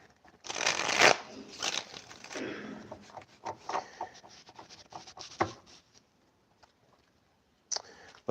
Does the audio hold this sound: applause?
no